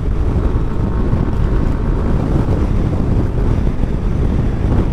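Riding a 2021 Yamaha Nmax Version 2.1 scooter at full throttle, a loud steady roar dominated by rushing wind buffeting the microphone, with engine drone buried in the broadband noise throughout.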